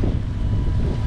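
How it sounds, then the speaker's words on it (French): Sailboat under sail with its engine running in support, heading toward Cannes; a steady low rumble with broadband wind and water noise fills the whole second, loud and continuous, with no voices. "c'est les voiles et le moteur en appui"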